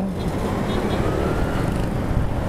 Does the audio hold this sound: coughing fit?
no